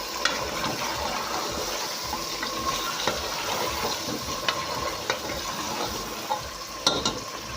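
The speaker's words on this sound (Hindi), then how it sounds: "जब हम इसमें चिकन डालें तो अब हम इसको थोड़ा सा फ्राई करेंगे चिकन को" Chicken frying in a pot with browned onions for biryani, a steady close sizzle with occasional stirring clinks and scrapes throughout, no talking.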